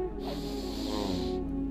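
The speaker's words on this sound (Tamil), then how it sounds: "இந்த மூக்கு வழியாக மூச்சு இழுக்கிறீங்க" One long, audible inhale through the nose during pranayama breathing practice, close and steady for over a second before it tapers off.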